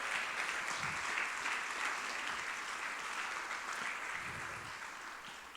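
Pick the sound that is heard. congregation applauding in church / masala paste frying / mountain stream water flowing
congregation applauding in church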